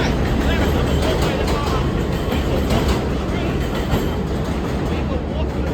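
An R262 subway train approaches Rockaway Boulevard station near 88th Street, a steady, loud rumble and roar with a dense, noisy wash that holds throughout.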